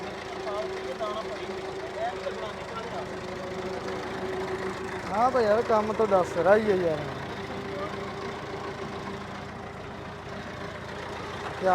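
A two-cylinder tractor engine idles steadily in the background with a low, even thrum, hitched to a trailer, while people talk over it throughout.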